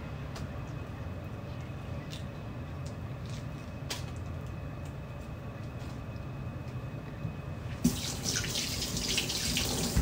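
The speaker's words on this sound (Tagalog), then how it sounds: "Basta maghugas lang tayo na maghugas ng kamay po." A kitchen tap runs steadily for handwashing, giving a continuous rushing hiss that grows brighter and louder near the end, with no talk over it.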